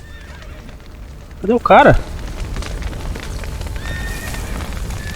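A horse in The Witcher 3 lets out one loud, wavering whinny that rises above the steady game ambience, with someone speaking just before it.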